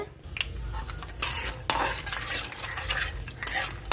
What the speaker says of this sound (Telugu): ఆయిల్ వేడవ్వింది ఇప్పుడు వేరుశనగ గుళ్ళండి ఒక గుప్పుడు వేసుకుంటాము అవి కొంచెం వేగాలి